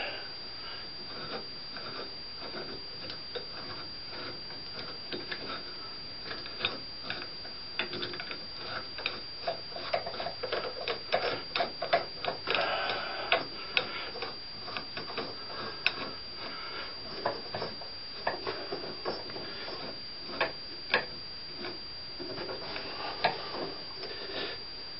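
A ratchet tightens nuts onto a Bobcat kingpin during kingpin and bushing replacement, making a long run of quick, close clicking ticks that come in uneven bursts over faint background noise.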